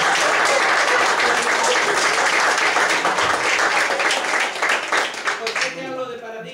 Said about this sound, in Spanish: ¿Cuánto pueden dar un aplauso a Jesús?